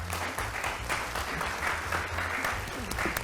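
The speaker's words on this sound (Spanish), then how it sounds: "la saludamos con este fuerte aplauso" Loud, steady applause from a convention audience welcoming a Microsoft security solutions manager onto the stage, a dense continuous clatter of many hands lasting the whole stretch with a faint voice underneath.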